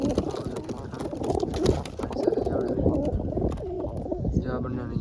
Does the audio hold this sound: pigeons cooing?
yes